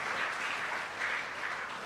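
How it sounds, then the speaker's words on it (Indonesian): An audience at a talk among Muslim writers gives a short, even round of applause for the editor, a soft, continuous patter of many hands heard from some distance. "Tepuk tangan untuk sang editor."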